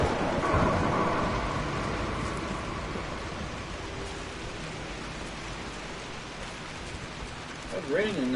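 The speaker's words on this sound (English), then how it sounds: "It's raining in the house." Rain and rumbling thunder inside a house in a Tomb Raider video game, a steady hiss of rainfall with low rolling thunder that is strongest at the start, and a voice briefly heard at the end.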